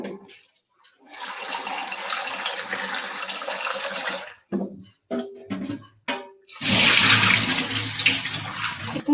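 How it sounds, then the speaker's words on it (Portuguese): Water from cooking lentils is poured off and the lentils are rinsed under a running tap in a kitchen, with long gushing runs of water broken by short splashes and pauses, close and loud. "Vou descartar aqui a água da lentilha,"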